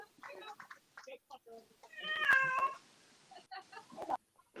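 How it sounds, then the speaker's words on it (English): A pet cat meows during a darts league broadcast, a short harmonic call near the middle set among ongoing commentary voices. "Yeah, that was my cat."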